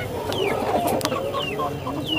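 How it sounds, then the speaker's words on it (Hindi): Aseel rooster of mixed breed clucking and calling repeatedly at close range on a farm, with short bird calls scattered throughout and a steady background hum. "हसन भाई जरा वो बड़ा मुर्गा दिखाना, हसन"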